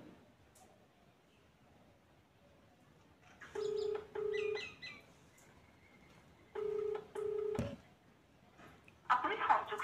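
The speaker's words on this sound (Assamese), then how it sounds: "মাই ভাবিলি তাক ফোন কৰোঁ ৰ ধীৰাজক" A telephone call is dialed and rings: faint rustling first, then two bursts of paired ringback tones a few seconds apart, followed by a brief rattling handling noise.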